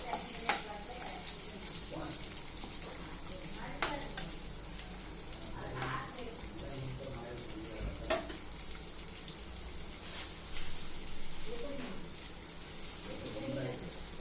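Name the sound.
carrot, beans and cabbage poriyal being stirred while frying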